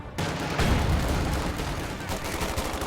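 Machine-gun suppressing fire in Company of Heroes 2 forms a dense, loud stream of rapid shots and battle noise that runs continuously throughout.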